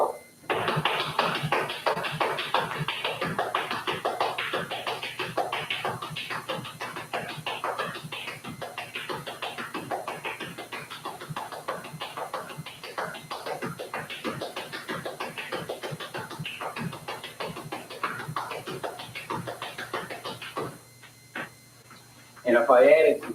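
Appalachian flatfooting footwork, steady quick taps and shuffles of hard-soled shoes on a floor at a slow practice tempo, continuous and fairly close for about twenty seconds before a brief pause and a louder burst at the end.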